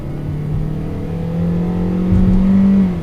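A 2020 Kia Soul GT-Line in sport mode, its engine humming steadily and then revving a little higher toward the end, heard close and alone.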